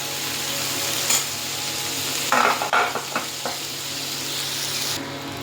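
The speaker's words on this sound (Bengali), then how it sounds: "একটু ভেজে নেব, ঢাকা দিয়ে দিই।" Onion stalks and tomato frying in a pan for a kolí pabda fish dish, a steady soft sizzle with a few louder stirring scrapes in the middle, no voices.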